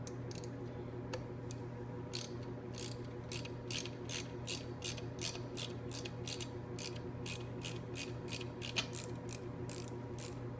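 A ratchet wrench backs out the pivot bolt on a motorcycle electric center stand, a steady run of fast metallic clicks over a low continuous hum, close and fairly quiet.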